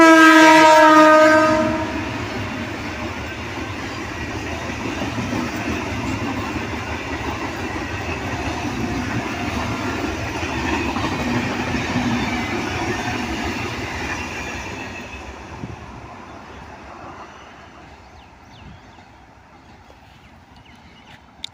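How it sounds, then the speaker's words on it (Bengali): A Garia–Canning local train passes the Sikdar Palli level crossing in Bongaon, opening with a loud horn blast, then a sustained rumble and rattle of the carriages that gradually fades as it moves away, with no talking. "আর সেই ট্রেনটা যাচ্ছে খুব সুন্দরভাবে।"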